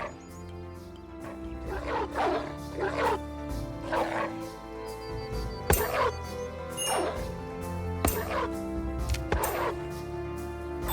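Dogs bark repeatedly in the medieval colony-building game Going Medieval, about six loud, evenly spaced barks over a steady droning musical background, with no talking.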